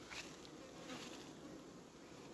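Honeybees buzz softly in a continuous, faint drone during a sunflower honey flow, a few individual bees passing close for a moment over the steady hum.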